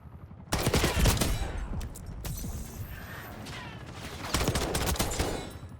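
Bursts of rapid automatic gunfire from a CR 56 AMAX assault rifle in the shooter game Black Ops 6, loud and close, with mechanical clatter and a quieter stretch between two heavy volleys.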